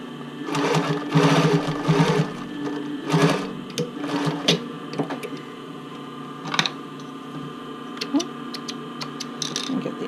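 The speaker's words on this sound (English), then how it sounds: "So I'm doing my back stitch." A sewing machine running a back stitch on sports bra fabric with rolled edge elastic, motor whirring in short bursts then slowing to sparse ticks and clicks, close and clear.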